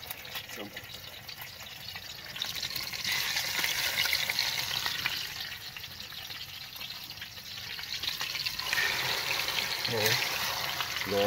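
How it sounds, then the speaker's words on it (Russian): Steady sizzling and crackling of burbot frying in a hot pan, with occasional clinks of a utensil and low voices in the background. "Сейчас его зажарим."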